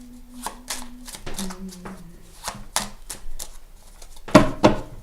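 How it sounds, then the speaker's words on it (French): Playing cards are shuffled by hand in a series of quick riffles and soft slaps, ending in a couple of louder snaps; faint murmuring voices sit underneath. "il faut commencer par mélanger les cartes"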